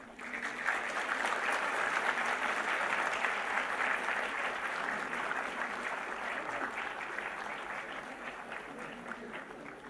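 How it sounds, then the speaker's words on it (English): Sustained applause at a university day celebration as dignitaries take the dais, a large hall of clapping heard from a distance as an even wash of sound for about ten seconds, fading slightly toward the end. "warmly greet and welcome our dignitaries on the dais with a thunderous round of applause"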